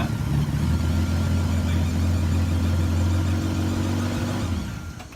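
A deep, steady Jaguar XJS V12 engine drone at idle with the muffler removed, loud and close, holding an even low rumble before fading slightly at the end; no voices.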